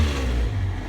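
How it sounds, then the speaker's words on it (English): A Dodge Dakota engine revs through a freshly fitted glasspack muffler, a loud, close, continuous low throaty roar that holds steady across the full second with no talk over it. "Just basically hit the throttle."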